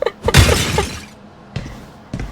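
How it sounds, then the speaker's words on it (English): Objects being smashed with a sledgehammer in the video game Perfect Vermin: a loud crashing shatter of breaking pieces, followed by two shorter, fainter impacts. "You're just gonna enjoy me smashing some shit."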